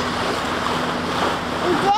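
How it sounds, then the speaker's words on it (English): A boat passes on the water near the San Juan Islands, heard as a steady washing rumble of engine and splashing waves with wind noise, fairly close and continuous. "here comes a boat"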